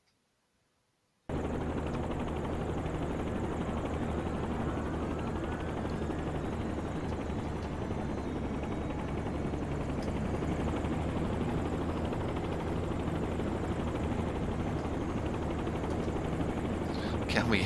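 A helicopter engine in a flight simulator game drones as a loud, steady whine and rumble that starts abruptly and holds without a break, with faint rattling on top.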